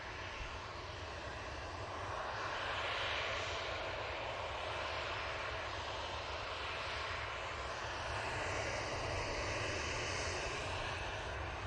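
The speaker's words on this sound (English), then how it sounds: "Climb rate on this A350 is so crazy compared to what the Emirates does when it departs." An Airbus A350 jet departing and climbing out at Manchester Airport, a loud sustained engine roar that swells and holds steady as the aircraft passes, heard alone without voices.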